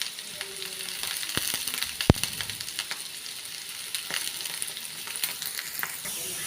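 Green chillies frying in a pan with jackfruit seeds and bitter gourd, a soft, continuous sizzle with scattered light crackles and one sharp clink near the start.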